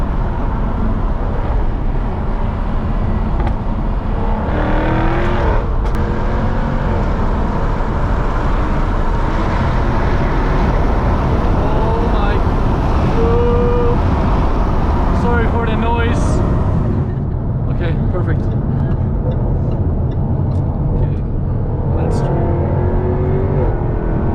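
A 2017 Jaguar F-Type R AWD with a 550 hp engine driving hard, its loud engine note rising and falling through revs and gear changes under steady road and wind noise, with people talking over it.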